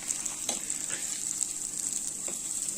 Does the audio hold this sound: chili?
yes